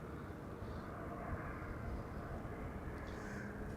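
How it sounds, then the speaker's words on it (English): An Airbus A380 airliner on approach to Amsterdam Schiphol Airport gives a steady, low, broad engine roar that holds at an even, moderate level for the whole stretch. "A380 is coming to here"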